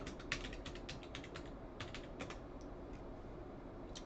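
A password typed on a computer keyboard: quick bursts of light, close key clicks in an uneven rhythm, then a few isolated taps trailing off, alone with no talk.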